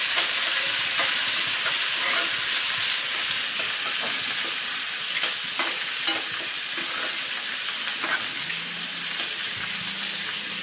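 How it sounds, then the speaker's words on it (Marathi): Onion and curry leaves sautéing with asafoetida in a pan for dry potato sabzi, a loud continuous hissing sizzle with occasional scraping stirs, close up and unbroken by speech. "एक मोठा कांदा घालून घेऊया कांदा मस्त परतला गेला पाहिजे"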